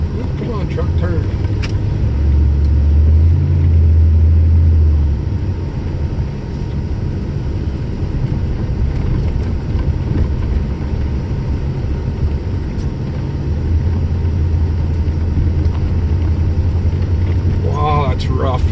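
A truck drives through a blizzard with a steady, loud low engine rumble and broad wind and road noise throughout, swelling twice. A voice can be heard at times over it.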